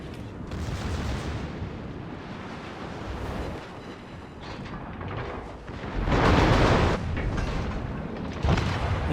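A battleship's heavy gun salvo in a naval combat game, a broad, loud rumbling barrage of booms rolling for several seconds, swelling toward the end with fresh blasts, close and dominant with no talk.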